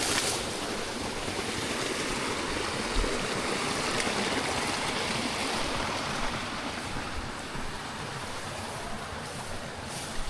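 Released irrigation water rushes steadily and loudly through a tomato and okra planting field, a continuous broad flow without pause and no voices.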